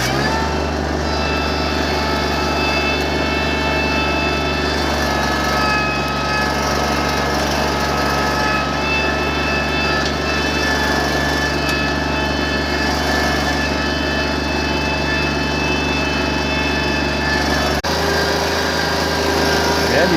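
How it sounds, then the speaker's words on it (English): A small tractor engine drones steadily at a constant high-pitched idle while pulling logs with a chain, close and loud for the whole stretch, with a brief change in load near the end. "Nothing works better than a tough little tractor"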